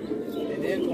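A kachpara pigeon coos in a steady low murmur lasting the whole second, close by.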